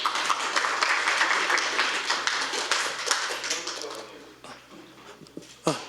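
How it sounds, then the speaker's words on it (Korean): Audience applause welcoming a speaker to a lecture on currency and the dollar, loud at first then thinning out into scattered claps and small noises. "큰 박수로 맞이하겠습니다."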